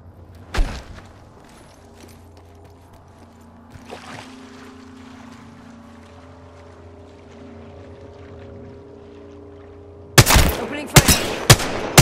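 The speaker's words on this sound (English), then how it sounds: "Opening fire." Gunfire in the Apex Legends video game: a quiet stretch of low ambient hum and a few faint thuds gives way near the end to a loud cluster of sharp, rapid shots.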